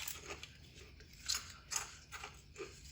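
Crispy fried spinach leaves give off faint, scattered crunches and crackles, a few separate crisp snaps over quiet background.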